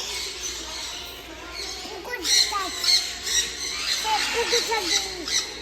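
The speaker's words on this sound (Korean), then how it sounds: "앵무새야 네. 앵무새" A parrot squawks and chirps repeatedly in short, shrill bursts, close by, with people talking in the background.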